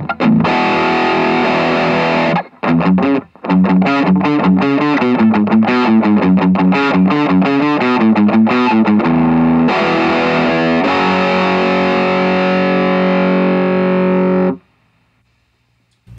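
Electric guitar played through a MUZA FD 500 distortion pedal on a heavy metal setting: loud, saturated chugging riffs with rapid palm-muted notes, then sustained ringing chords that cut off abruptly.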